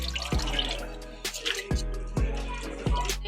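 Washed beef tripe is tipped into a sieve, with water splashing and dripping through in a few wet bursts, close and fairly loud, with soft clanks of the strainer.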